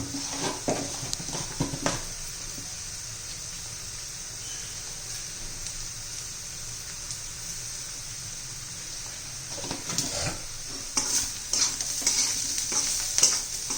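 Leftover bhakri chivda with turmeric, red chilli, salt and hing sizzles steadily in a pan while being stirred. A constant close frying hiss runs throughout, with occasional scraping stirs and light utensil knocks.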